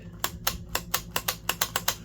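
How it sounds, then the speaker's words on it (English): Switch on a Makita hypoid saw clicking repeatedly, nine sharp, close clicks in an even rhythm about a quarter second apart, with no talk over them. "It just doesn't have that quite as solid a clicking sound or snap action."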